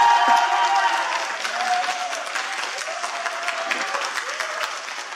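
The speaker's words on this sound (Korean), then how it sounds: "응원팀 박수 좀 쳐주세요" At a mayoral candidates' debate in Ansan, a supporters' team claps and cheers in sustained applause that starts loud and settles into steady clapping, with a voice talking faintly over it.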